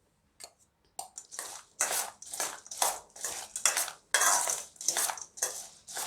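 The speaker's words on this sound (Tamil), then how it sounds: "இதை நல்லா கலந்து விட்டுட்டு" Masala sweet corn is stirred with salt, pepper and chili powder in a bowl. About eight rhythmic scraping, clinking strokes of a spoon sound close by, with no talking.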